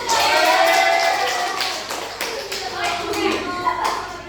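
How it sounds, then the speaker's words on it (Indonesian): Children in a micro-teaching classroom session clap together, with scattered claps running under ongoing talk. "Beri tepuk tangan dulu."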